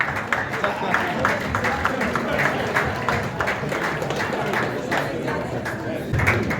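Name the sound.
audience applause at a summit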